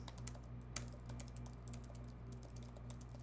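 Typing on an iPad keyboard case from Apple or Logitech, rapid soft key clicks in a steady flurry, faint and close with a low hum underneath.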